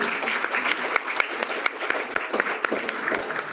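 An audience at a school award program applauds an honoree with steady clapping from many hands, some sharper individual claps standing out, at moderate level throughout.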